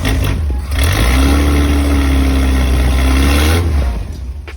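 A car engine revving loud and close just after a cold start, a steady high drone that swells, holds for a few seconds, then eases back toward idle.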